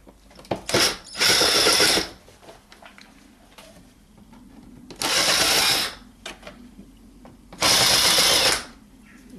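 A power screwdriver loosens Phillips screws on the air filter housing of a 2012 VW Passat 1.6 TDCI, giving three loud whirring bursts of about a second each, separated by quieter pauses with light handling clicks.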